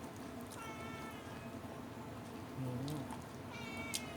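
A cat meows a couple of times, fairly faint against a steady background hum.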